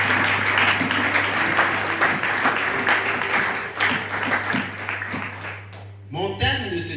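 Church congregation applauding and cheering for Jesus during a French-language worship service, a sustained dense wash of clapping with a steady low hum beneath, cutting off near the end as a voice begins.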